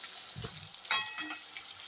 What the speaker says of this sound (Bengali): এখানে আমি বসিয়ে দিয়েছি আপাতত পটল ভাজা।